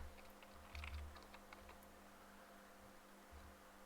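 Code gets typed on a computer keyboard in quick, light clicks, close and quiet over a soft background hum.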